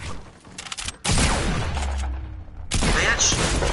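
Sniper fire in the Fortnite video game, loud sharp reports and booming blasts in bursts with brief gaps between, heard up close and alone.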